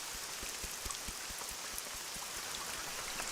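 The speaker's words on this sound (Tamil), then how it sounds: "மழை வேற அதிகமா பெய்யுதே" Heavy rain falls steadily and close by, a dense wash of hiss broken by scattered heavy drops striking a surface, with no voices.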